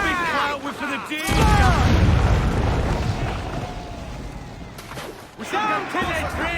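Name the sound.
ship cannons firing in Assassin's Creed IV Black Flag video game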